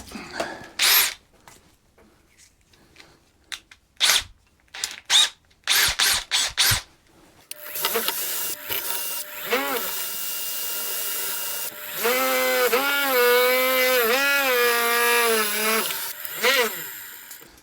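A power drill spins a brass wire wheel against an engine cylinder head's inlet valve, starting in short bursts and then running continuously with rising and falling pitch as it loads and unloads.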